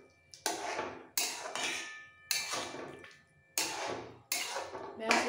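Pumpkin greens in poppy-seed paste (kumro shak posto) stirred with mustard oil in a pan: about six loud, close scraping strokes of a spoon against metal, separated by short pauses.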